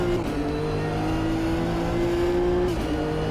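GT3 race car engine in the Automobilista 2 racing game, a sustained droning whine holding near-steady pitch with a brief dip around a gear shift, loud and continuous with no talk.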